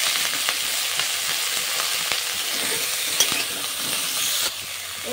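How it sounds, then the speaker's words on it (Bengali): Potatoes and cauliflower fry in oil in a wok with a dense, steady sizzle. A few faint clicks and stirring sounds break in, and the frying drops slightly in level near the end. "দিয়ে ভালো করে আমি আলু আর ফুলকপিটা ভেজে নেব।"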